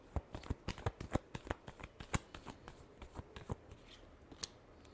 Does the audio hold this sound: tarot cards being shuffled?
yes